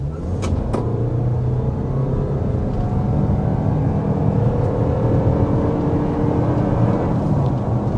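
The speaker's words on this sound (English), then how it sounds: "Okay, that was 60 miles per hour with this 2026 RAV4" A 2026 Toyota RAV4 accelerating hard to 60 mph, a steady loud engine and road rumble from inside the cabin, with a rising drone across the run and a couple of brief clicks early on.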